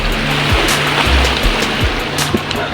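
Calm sea water laps and sloshes against the hull and quay of a busy harbor crowded with ships, a steady close wash with soft periodic slaps and low rumbling underneath.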